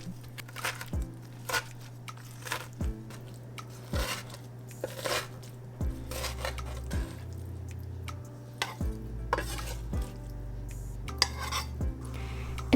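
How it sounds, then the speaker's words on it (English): Knife chopping kimchi on a cutting board in a home kitchen, a steady run of crisp, close knocks with occasional clinks, no voices. "roughly chop up our kimchi"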